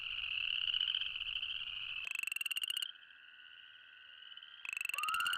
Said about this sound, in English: It should come from a beast of a frog with mighty lungs, but instead, it's the tiny chorus frog